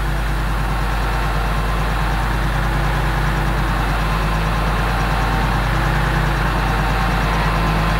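A Unimog truck's diesel engine runs steadily at a constant idle-like drone during overhead cable stringing, loud and close with no change in pitch or any talk.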